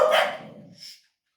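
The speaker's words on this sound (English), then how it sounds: "Sorry about the dog bark there." A dog barks once indoors, a single sharp bark that quickly fades into a short whimpering tail, with a faint trailing noise before silence.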